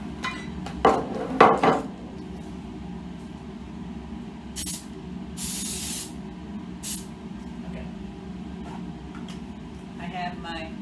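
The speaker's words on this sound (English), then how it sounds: "now I'm going to take my cooking spray and spray it" A can of cooking spray hisses in short bursts onto parchment paper lining a pan in a home kitchen, several quick sprays with brief pauses between them and faint room noise underneath.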